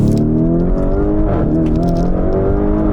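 An SUV with a sports exhaust revs hard and loud while accelerating, its exhaust note droning and rising steadily throughout at close range.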